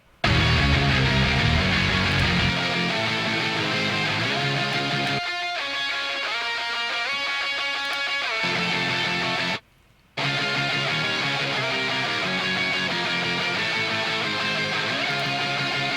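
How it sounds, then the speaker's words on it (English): A dense, loud guitar part plays a layered melody over a full band mix, with a brief drop to near silence partway through. "the octave melody, which sounds like this."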